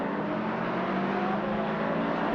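A 2029 BMW Z4 race car in a racing video game at the Changtra circuit gives a steady, droning engine whine at high revs, loud and continuous throughout the short stretch with no voices.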